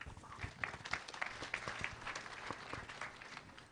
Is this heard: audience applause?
yes